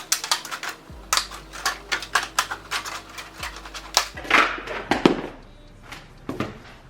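Scissors snip through a thin 3D wall panel in a run of close, crisp cuts with brief pauses and a heavier crunch near the end, no voices.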